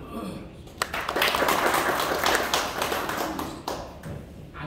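Applause from attendees at a founding general meeting of a Korean nonprofit association, a steady burst of hand clapping lasting several seconds, close and moderately loud, with a speaker's voice before it begins.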